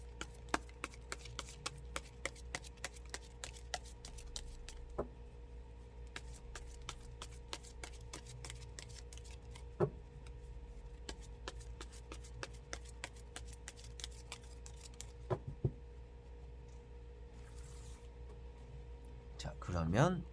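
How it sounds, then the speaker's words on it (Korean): Tarot cards being shuffled by hand in a quiet room, giving a steady run of soft riffling clicks and taps for about twenty seconds under a low background hum, with a brief burst of handling at the end. "2월 9일 일요일 카드 섞어보도록 해보겠습니다"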